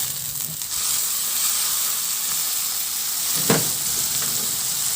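Chopped tomatoes sizzling and frying in a pan while cooking a tinapa and sweet potato dish, a steady close hiss with a brief louder crackle of stirring midway.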